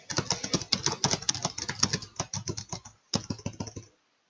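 Fingers type a currency trade order on a computer keyboard, a fast run of close, crisp key clacks with a short pause before a final burst of keystrokes.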